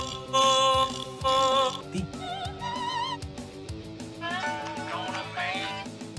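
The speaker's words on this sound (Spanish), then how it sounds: "Un simple gato hambriento que se resiste ferozmente a los esfuerzos del gran Baymax por curarlo" A hungry animated cat meows in short, pitched cries in a Baymax cartoon short, its repeated meows riding over a busy backdrop of music and mechanical sound effects.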